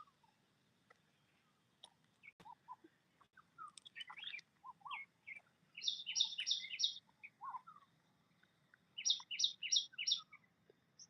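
A bird in a tree chirps in short, high bursts, scattered at first and then in quick rhythmic clusters of repeated notes, clear against a quiet outdoor background with no talking.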